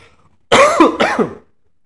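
Two harsh coughs in quick succession, close and fairly loud, with silence before and after.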